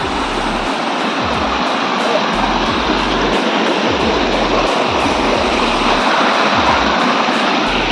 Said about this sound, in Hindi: पानी का बहाव तो देखिए